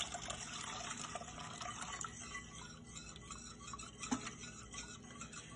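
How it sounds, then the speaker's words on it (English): Whole milk being whisked in a pan for a chicken cordon bleu sauce makes a continuous wet, sloshing swish with faint scraping, close and steady, with no talking. "I'm just gonna keep whisking that until we get everything mixed in."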